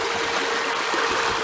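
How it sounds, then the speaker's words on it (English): Continuous gushing, splashing flow from a water pump on a homemade solar electric catamaran, loud and close throughout, with no one speaking. "The water pump works at this level."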